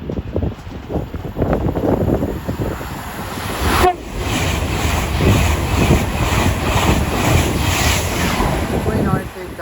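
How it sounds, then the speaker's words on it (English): An Avanti West Coast express running from Liverpool Lime Street to London Euston passes through Watford Junction on the West Coast Main Line, a loud, sustained rushing roar with wind buffeting that swells after a sharp break and holds to the end. "Soon to pass through now will be a Avanti West Coast service going from Liverpool Line Street to London Euston."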